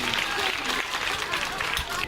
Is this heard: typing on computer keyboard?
no